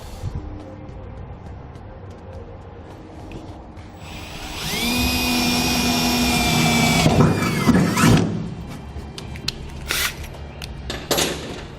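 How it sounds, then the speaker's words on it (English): A small power drill with a small bit whines steadily at close range for a few seconds while drilling a pilot hole, its pitch holding, then winds down amid clattering handling noises. "I'm going to use a small drill bit and make a pilot hole"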